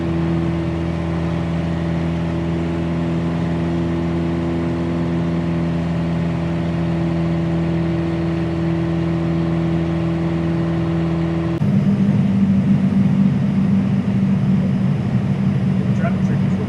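A Piper Cherokee 140 single-engine training plane in flight between Gilmore and Gladewater drones loudly and steadily from inside the cockpit, its tone shifting lower near the end as power changes.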